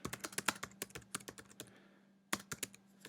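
Rapid clicking of keys on a computer keyboard, a quick burst of typing, a brief pause, then a few more keystrokes, close and crisp.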